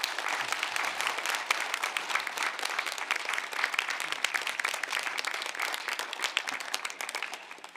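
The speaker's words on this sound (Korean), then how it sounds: "우리 박수로 전달하겠습니다." A church congregation claps together during a Sunday worship service, giving steady, sustained applause of many hands at moderate level for about eight seconds.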